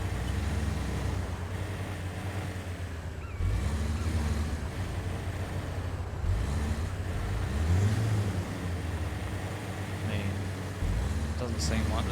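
Steady low rumble of an 80 Series vehicle engine idling and creeping down a steep descent in Expeditions off-road driving, continuous throughout with someone talking over it.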